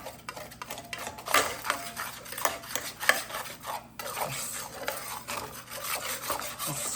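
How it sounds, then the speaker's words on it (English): A spatula working flour and bacon grease together in a pan for tomato gravy, making repeated scraping, rasping strokes against the pan's surface in an uneven rhythm, close and fairly quiet, with no talking. "I'm just going to take my spatula here and just kind of try to work those out."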